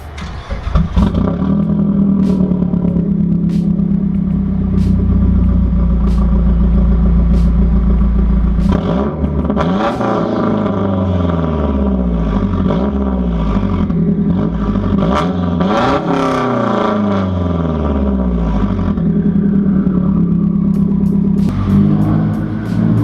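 A straight-piped Mazdaspeed 3 starts up and idles with a loud, raspy drone, then takes a couple of sharp revs that rise and fall in pitch before settling back, close and alone without talk.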